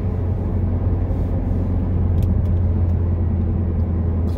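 An Audi A3 car on a road gives a steady, close low rumble of engine and tyre noise throughout, fairly loud and unbroken, with no voices.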